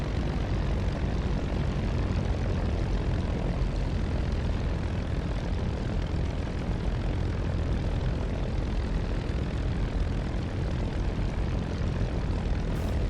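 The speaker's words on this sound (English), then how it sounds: "That's the engine settling itself." Spitfire IX engine idling in the DCS World flight game after startup, a dense steady propeller-engine drone that fills the whole stretch at constant loudness, close and alone with no talk over it.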